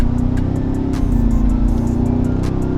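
A 2022 Toyota Tundra 1794 Hybrid engine hums loudly in a steady, throaty drone as the truck accelerates, heard from inside the cab with a few faint clicks on top.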